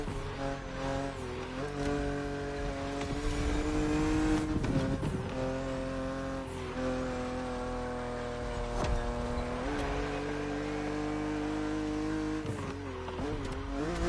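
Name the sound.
BMW Z roadster driving in a race in the video game The Crew Motorfest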